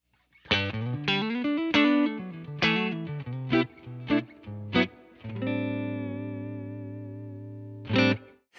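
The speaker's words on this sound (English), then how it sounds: "Let's hear the bypass tone straight up." Clean electric guitar, bypass tone through a '68 Custom Deluxe Reverb amp: a run of plucked notes and chords, then a sustained ringing chord that fades before one last strum.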